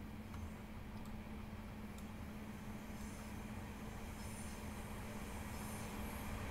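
Class 707 electric train running in Train Simulator Classic on the Southeastern network, a steady loud rumbling drone with a constant low hum and faint high squeals, continuous with no talk.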